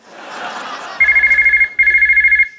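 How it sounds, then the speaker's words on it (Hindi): A telephone rings in two steady electronic bursts, loud and close, following a stretch of muffled background noise. "ओ मम्मी का फोन"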